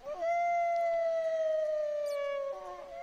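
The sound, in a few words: wolf howling in Minecraft video game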